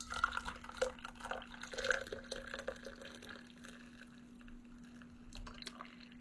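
Homemade dandelion tea poured from a small vessel, a few soft trickles and drips at close range that fade out into quiet room tone.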